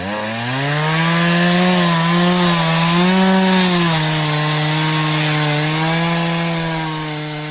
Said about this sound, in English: we're going to do a chainsaw sound right about now